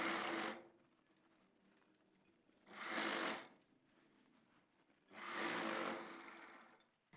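Sewing machine stitching can-can net onto a lehenga lining, running in three bursts of steady whirring separated by quiet pauses, close and clear with no talking.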